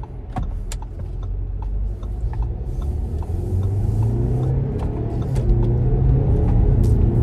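Car engine rumbling as the driver accelerates to overtake on the road, a low steady drone that rises and swells louder toward the end, heard from inside the cabin with occasional small clicks.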